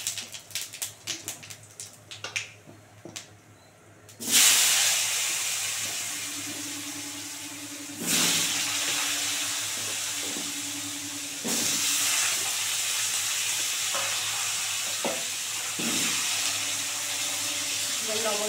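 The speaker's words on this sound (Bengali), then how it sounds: "এবার আলুটা ভালো করে সুন্দর করে লাল করে ভাজবো" Potatoes hit hot oil seasoned with cumin seeds and sizzle in a steady, loud hiss that surges as more pieces go in, with a few clinks of the spatula against the pan.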